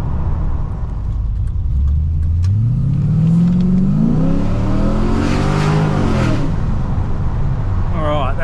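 Cammed Holden SS Commodore with an LS1 V8 accelerating hard, its loud engine note climbing steadily through the revs in one long pull and then easing off, with tyre and road roar underneath.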